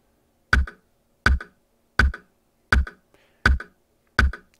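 An online metronome set to 82 beats per minute ticks six times at a steady, even pace, each click sharp and isolated against near silence.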